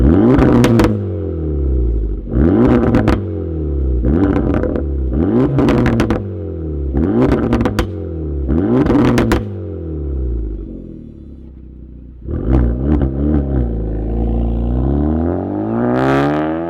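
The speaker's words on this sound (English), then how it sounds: "let's fire up AIM's Integra Type S and hear it sing" Acura Integra Type S DE5 sports car engine revving hard in a series of about six sharp, rising blips, then settling to a lower idle before another rev builds near the end; loud and close, no talk.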